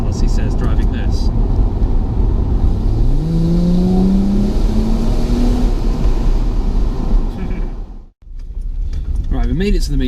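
A car driving on a road on the way to a car show, a loud steady engine drone and road rumble close up, with a rising tone as it accelerates and a brief voice near the end.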